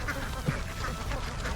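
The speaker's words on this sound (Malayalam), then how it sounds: "ഇതിൽ ഒരുപാട് താറാവുകളുണ്ട്" A flock of ducks swimming on a river near Kakkanad, Ernakulam, quacking steadily throughout over a constant outdoor wash of background noise, with no voices in the clip.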